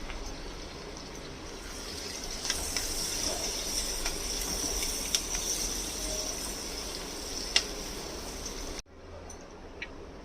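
Two finely chopped onions frying in a pan for dry masala chicken give a steady, close broadband sizzle and hiss with a few faint clinks, which stops abruptly near the end.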